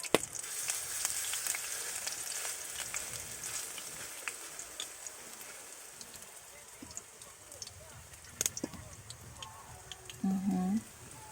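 Patties fry in a pan with a faint, steady sizzle and crackle, quiet and close, while a person speaks briefly near the end.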